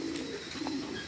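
A pair of pigeons kept in a loft gives a soft, brief cooing call, close and clear over faint background hiss.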